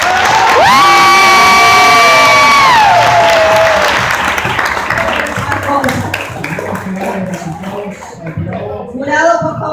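A church Mother's Day play audience erupts in loud applause and cheering, with high whoops and shouts over dense clapping that gradually settles into scattered claps and chatter, then swells again with children's voices.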